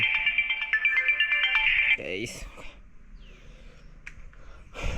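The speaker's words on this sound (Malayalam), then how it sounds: "ഫോൺ റിങ് ചെയ്യുന്നുള്ളൂ." A phone ringtone plays loudly with a repeating electronic melody for about two seconds, then cuts off, followed by rustling, breathing and a few soft noises.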